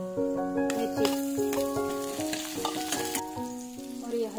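Finely chopped onion frying in a pan for moong dal with bottle gourd, a close, steady sizzle under faint background music.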